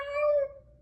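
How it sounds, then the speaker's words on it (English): A house cat lets out a single loud, drawn-out meow with a clear tone that fades toward the end, close and alone with no voices. "He was meowing like an insane loud meow"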